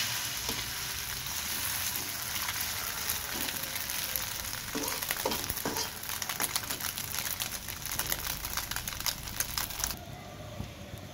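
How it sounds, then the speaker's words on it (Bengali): An egg sizzling and crackling in hot oil in a pan, continuous frying with scraping stirs, ending abruptly. "এই যে ডিমটা সুন্দর ভাজা হয়ে গেছে"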